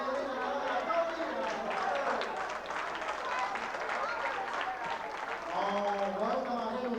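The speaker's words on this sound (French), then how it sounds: "On va l'aider, on va l'applaudir." Dense audience clapping at a revue evening, steady and fairly even, with some crowd voices mixed in toward the end.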